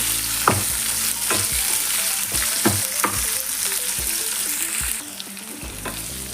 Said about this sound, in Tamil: வெங்காயம் நல்லா வதங்கணும், பச்சை வாசனை போகிற வரைக்கும்.